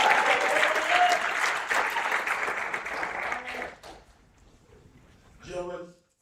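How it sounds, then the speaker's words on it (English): An assembly at a Louisiana Boys State elections convocation bursts into loud, dense applause for the newly elected governor, sustaining for about four seconds before fading, followed by a short spoken phrase. "So please join me in a round of applause as we're welcoming your next governor of Louisiana Boys"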